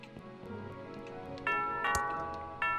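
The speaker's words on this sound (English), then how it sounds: "That sounds like the doorbell." A doorbell chimes in the point-and-click adventure game Thimbleweed Park, a few bright ringing tones struck in succession over a soft ticking background, fairly close and clear.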